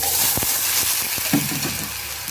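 Pork meat sautéing in a pan for Bicol-style dinuguan (pork blood stew): a loud, steady sizzle and hiss, with a few sharp clacks from stirring near the start.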